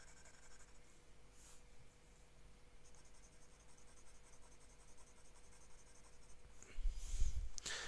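A Ryan Krusac Legend 14 fountain pen with a dry nib tracing figure eights on paper, a faint, crisp, continuous scratching heard up close with no voices, ending in a louder rustle.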